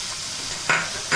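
Ginger-garlic-chili paste with spices frying in a pan for matar paneer masala, a steady close sizzle with two brief louder bursts of stirring near the end, no talking.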